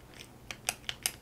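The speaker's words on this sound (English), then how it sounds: "I think it's a solid click mechanism." A Majohn A1 fountain pen's click mechanism sounds off in four or so sharp, close, crisp clicks in quick succession, with no voices.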